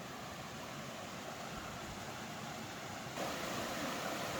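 Water runs past a grist mill in a Great Smoky Mountains national park setting, with a steady broadband rush that swells slightly louder near the end, with no voices.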